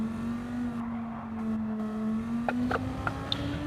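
A GT3 race car engine in Gran Turismo 7 holds a steady, fairly loud drone that climbs slightly in pitch over a few seconds, with a handful of sharp clicks and knocks near the end and no voices.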